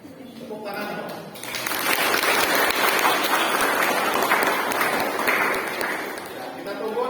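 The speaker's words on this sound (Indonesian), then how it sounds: "Tepuk tangan." An audience at a traffic safety outreach event held by a transport agency in Sukabumi bursts into sustained applause, loud and dense, holding steady for several seconds and easing slightly at the end.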